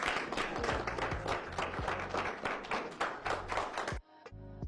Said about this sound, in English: What the hell you clapping for